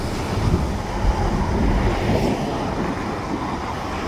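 A freight train rolls past in a rail yard as a steady, broad rumble and rushing noise, fairly close and even throughout, with no voices.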